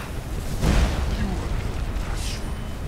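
Skyrim's dragon Alduin breathes fire in a roaring, rushing burst that swells and then fades into a sustained low rumble, with a second hissing flare following.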